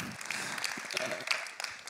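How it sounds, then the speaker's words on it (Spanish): A conference audience at a marketing event in Uruguay applauds as a participant is called up on stage, steady broadband clapping with a voice talking over it. "Dar un aplauso a Wina."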